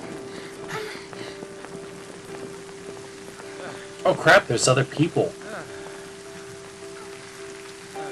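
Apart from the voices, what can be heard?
rain in Final Fantasy XIII video game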